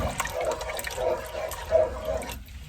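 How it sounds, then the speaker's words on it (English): A pot of vegetable soup is stirred, giving watery sloshes and liquid swirls in a steady rhythm, close and moderately loud, with no voices. "give this a good stir"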